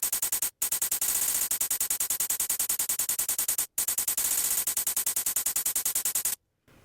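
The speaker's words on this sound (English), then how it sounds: "Now, next up we have the hi-hats, which sound like this." Two-bar hi-hat pattern from a trap beat, rapid bright ticks repeating in an even stream, broken by two short gaps, played alone and fairly quiet.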